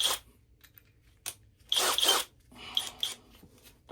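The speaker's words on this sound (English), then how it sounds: "All right, cordless drill, name brand irrelevant." Cordless drill spinning steel wool against a Browning A-5 shotgun part during rust bluing, giving harsh raspy bursts of abrasive scrubbing in several separate passes, loud and close with short pauses between.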